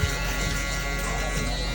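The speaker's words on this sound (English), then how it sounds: "here with my Metal Instinct shaver, just going up on that stubble to get it cut down to the skin" A Metal Instinct electric shaver cutting stubble down to the skin during a bald fade haircut, a loud continuous close-up buzz holding steady throughout.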